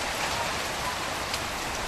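Heavy, dense rain falls outside a kitchen where flatbread is being made on a clay stove, a loud unbroken roar of drops.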